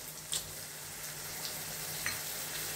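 Soy sauce poured into a pan of frying onion, tomato and capsicum, a soft steady sizzle with a few faint clinks along the way.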